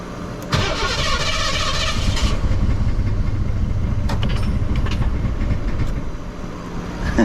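A Ford Mustang Foxbody engine, unstarted since 2006, cranking hard with a loud rapid churning that runs continuously for several seconds without catching, close to the car.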